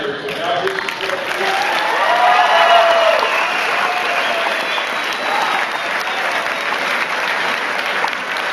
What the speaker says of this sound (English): Now I'd like to hear a round of applause for the parents, the teachers, the sponsors, and the mentors